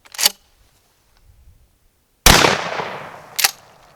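A Remington 870 shotgun fires a 1-ounce slug: a sharp crack at the start, then a loud, close blast with a long rolling tail, and one more sharp report shortly after.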